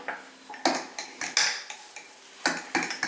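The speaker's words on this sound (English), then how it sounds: "And I stir that into what I had left from before." A silver fork stirs sourdough starter in a glass jar, making quick, irregular metallic clinks and scrapes up close, in short bursts with brief pauses.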